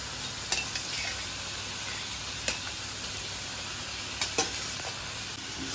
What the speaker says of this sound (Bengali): এবার যেই ভাজা ভাজা হয়ে গেল, এবার আমি এটাকে এই মেটে আর কচকচিটাকে মিশিয়ে দেবো।